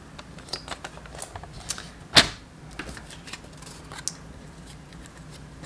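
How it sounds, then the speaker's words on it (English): A paper trimmer slices paper for a sunflower greeting card, one sharp, distinct cutting swipe in the middle amid quieter clicks and small handling taps in a quiet room. "the next thing that we need to do is we are going to actually cut with our paper trimmer."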